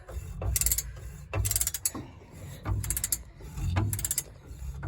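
A hand ratchet tightens a bolt on a 1963 Pontiac Star Chief during a coil spring job, clicking in four quick bursts with short pauses between strokes, close and fairly quiet with no talk.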